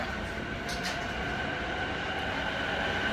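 Subway train at a station near Narita Airport, a steady rumbling ride with continuous wheel and track noise and a faint high whine, no voices.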